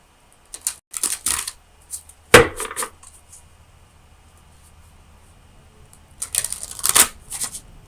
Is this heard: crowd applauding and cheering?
no